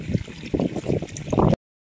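Water poured into a kadai (wok) on the stove while making homemade kurkure: a run of close, splashing bursts that ends abruptly.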